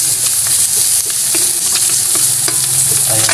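Garlic and onion sauté in a hot pan, giving a steady bright sizzle with scraping stir strokes at irregular intervals, close and constant throughout.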